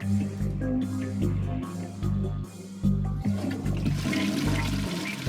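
A toilet flushes in the point-and-click game The Darkside Detective, with a loud, steady rush of swirling water running continuously with rhythmic low pulses throughout.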